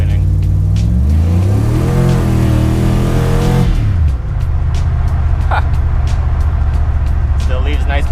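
An LS-swapped GMC S15 pickup revs hard and accelerates with rising engine harmonics, then tire spin and engine roar continue loud and close, with brief voices underneath.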